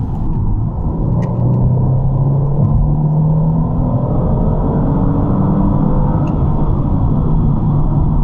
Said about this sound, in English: I just want to let you hear the engine.